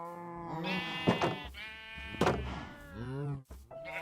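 Sheep in the Minecraft video game bleat repeatedly, several wavering, nasal bleats following one another at close range, loud and clear with no talk over them.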